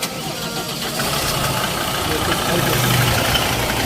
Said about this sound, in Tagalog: Ito yung tunog ng makina